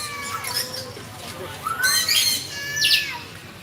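Macaw parrots in an eco park aviary in Sylhet give several loud, harsh squawks in quick succession, rising over faint crowd murmur and chatter.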